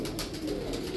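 Pigeons coo softly in a brief, low, murmuring burst close by.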